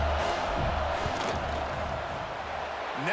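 A football stadium crowd roars in a dense, continuous wash as the kicker lines up a field goal in the Virginia Tech vs South Carolina game, loud and steady throughout.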